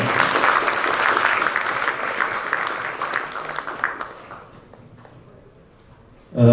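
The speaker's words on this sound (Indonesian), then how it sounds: "tepuk tangan buat Pak Wiko" An audience at a mechanical engineering faculty public lecture applauds Pak Wiko, CEO of PT Pertamina Gas: a dense, steady round of clapping that holds for about four seconds, then thins and fades to near quiet.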